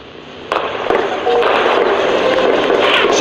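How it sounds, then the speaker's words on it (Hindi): Battle tank firing shells one after another in urban combat: sharp booms strike near the start, then blur into a sustained, loud rumble of blasts and debris. "टैंक एक के बाद एक गोले बरसा रहा है, जो कुछ किलोमीटर की दूरी पर फट रहे हैं।"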